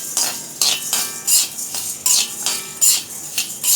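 Spices for sukku malli coffee, dry ginger and coriander, being stirred while dry roasting in a pan, with repeated scraping strokes of the utensil against the metal at an irregular rhythm, close and fairly loud, without talk.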